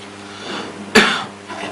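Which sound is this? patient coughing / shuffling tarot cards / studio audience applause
patient coughing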